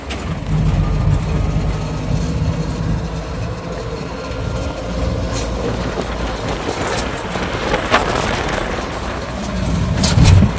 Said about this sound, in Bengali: তো সরাইঘাট এক্সপ্রেস দিয়ে দিয়েছে 1 নম্বর প্ল্যাটফর্মে।